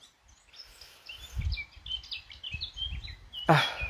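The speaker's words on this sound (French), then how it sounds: "À l'ombre, tranquille, on entend les oiseaux." Songbirds chirp and warble in a quiet, shaded garden, with a steady run of bright calls throughout and a single brief voiced exclamation near the start.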